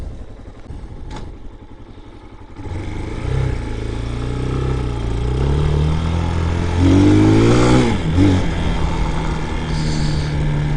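A Brozz 250 Chinese motorcycle engine, freshly re-jetted at the carburetor, idles roughly and then climbs into a loud, sustained revving drone with rising pitch sweeps, close by and without talk.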